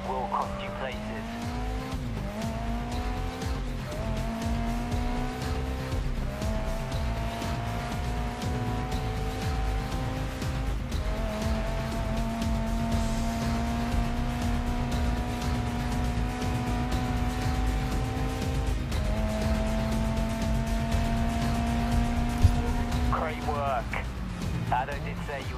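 A race car at full throttle in GRID Legends, with a loud, steady engine drone rising through the gears and brief dips at each shift, plus tire noise, continuing unbroken for the whole stretch while a voice talks over it.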